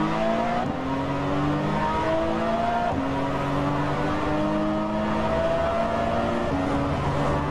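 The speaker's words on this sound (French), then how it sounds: "On entend bien qu'on a affaire à un flat 6." A Porsche 911 GT flat-six engine revs steadily with rising and falling harmonic tones, loud and close, with gear changes breaking the pitch every second or so.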